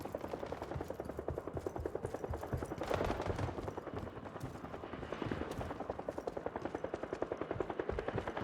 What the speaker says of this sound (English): The helicopter's very loud.